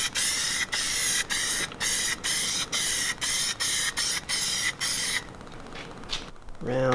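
Enamel paint is sprayed onto brackets as a second coat in about ten short, loud hissing bursts with brief gaps between them, then quieter rustling and a faint clatter at the end.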